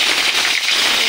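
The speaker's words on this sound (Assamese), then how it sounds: "এইফালে কেৰাহী গৰম হৈয়ে আছে অলৰেডি এইফালে মই তেজপাত দি দিলোঁ" A washed bay leaf hits hot oil in a kadai, bursting into loud, dense crackling and spitting that fills the whole moment without pause, close and steady.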